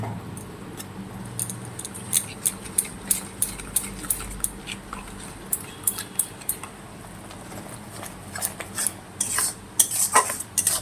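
A spice paste of turmeric and other ground spices sautés in a pan under repeated metallic stirring clinks and scrapes, with a faint sizzle beneath and busier clattering toward the end.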